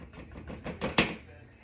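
Cream cheese mixture for chocolate pecan cheesecake tarts being whisked in a bowl, with quick rhythmic scraping strokes close by and then a single sharp clack of the whisk against the bowl.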